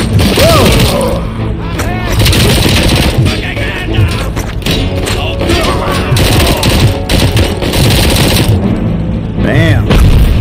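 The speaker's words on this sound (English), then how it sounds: "Let's switch over to the SMG." Submachine gun fire in the Robocop: Rogue City video game, loud rapid bursts and dense gunfire that runs nearly nonstop with heavy booms, mixed with game effects and a man's excited exclamations.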